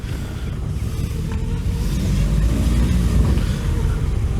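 A long-abandoned Volkswagen Scirocco Storm on a test drive with a door missing, heard as a steady, loud broadband rumble of engine and road and wind noise that swells slightly partway through.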